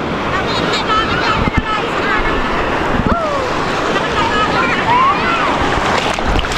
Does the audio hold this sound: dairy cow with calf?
no